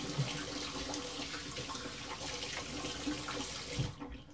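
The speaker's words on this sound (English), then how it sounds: "Rinsing off." Tap water runs steadily into a sink while someone rinses off after shaving, a faint, even splashing hiss that cuts off abruptly near the end, with no voices.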